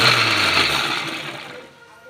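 Electric mixer grinder crushing spices for a beef roast whirs loudly and steadily at close range, then winds down and fades as it is switched off.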